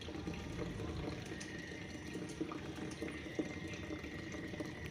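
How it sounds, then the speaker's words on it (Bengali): Starch water is drained off boiled rice, a steady close trickle and pour of liquid with faint splashes, quiet and unbroken for several seconds, and no voices. "সুন্দর করে জল ঝরিয়ে নিচ্ছি।"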